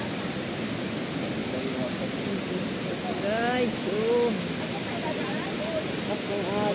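Flowing water current at an eco park rushes as a steady, broad wash throughout, with a few voices talking over it midway.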